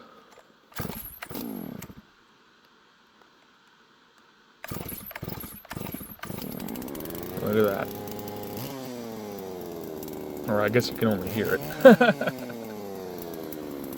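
A rebuilt Husqvarna-style G660 chainsaw is pull-started with a few sharp tugs, then catches and revs loudly, rising and falling, while someone talks briefly.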